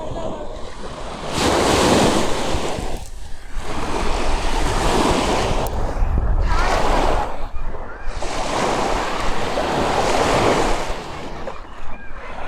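Ocean waves wash onto the beach at L'Escala on the Costa Brava, loud rolling surges of surf coming and going in broad swells, with steady wind buffeting the microphone and no talk.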